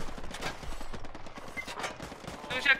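Gunfire in the World War II shooter Hell Let Loose crackles in bursts of rapid, machine-gun-like shots, mid-distance and steady, under intermittent voices talking over the game.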